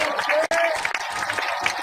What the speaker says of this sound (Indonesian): Iya, tepuk tangan dulu dong.